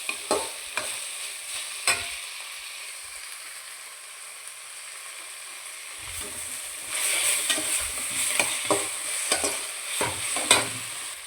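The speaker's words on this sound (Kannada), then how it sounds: "ನೋಡಿ ಯಾವ ಥರ ಫ್ರೈ ಆಗ್ತಿದೆ ಅಂತ." Fenugreek leaves frying in a pan for an egg stir-fry, a steady sizzle with intermittent stirring scrapes and soft clatters, growing busier toward the end, close and moderately loud with no talk.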